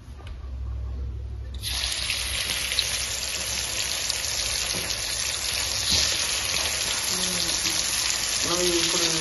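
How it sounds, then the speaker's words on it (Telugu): Buruka fish frying in hot oil: after a quiet opening second or so, a loud, steady sizzling hiss suddenly erupts and crackles on without pause. "ఫ్రై చేయాలి."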